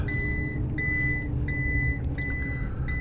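A car's seatbelt warning chime rings at a gas station on a breezy day, a thin electronic tone repeating about every 0.7 seconds over steady wind and low engine rumble.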